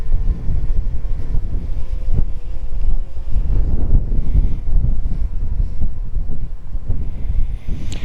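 Strong gusty wind buffets the microphone steadily and loudly outdoors while a DJI Mini drone flies into it at about 20 meters altitude, a dense low roar with no voices.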